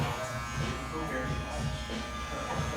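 An electric hair clipper buzzes steadily and close while trimming the neckline during a haircut, with a person talking over the continuous hum.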